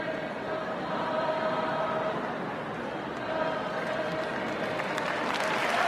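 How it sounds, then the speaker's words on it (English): A crowd claps as a child walks up onto a stage, steady applause heard at some distance with a muffled, broadcast-like quality and a faint crowd murmur, holding at an even level throughout. "So now they're applauding as the kid is up there onto the stage."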